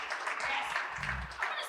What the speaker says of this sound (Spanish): Démonos un aplauso.